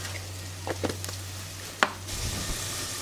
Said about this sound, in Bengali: মাছগুলা দিয়ে কষিয়ে নিলাম।